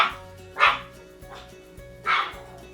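A Pomeranian barks indoors, giving two short, sharp, high yaps about a second and a half apart, moderately close. A low, steady hum sits underneath the barks.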